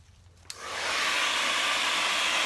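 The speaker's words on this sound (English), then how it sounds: "I think I'm going to hit this with the blow dryer real quick." A handheld blow dryer used during a painting session on wood clicks on and quickly rises to a loud, steady whooshing roar that runs close and unbroken, with no talk.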